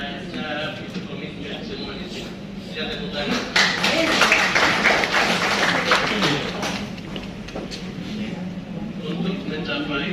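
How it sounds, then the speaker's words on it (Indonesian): Audience applause at an RSUD hospital accreditation team inauguration, a burst of clapping that swells for a few seconds in the middle, mixed with speech from someone talking throughout. "Saya tepuk tangan."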